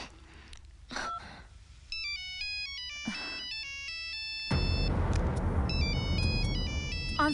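A mobile phone plays a melodic ringtone in a dramatic Hindi film scene, the stepped electronic tune repeating in bursts, joined by breathy sounds and a loud rushing swell of background score partway through.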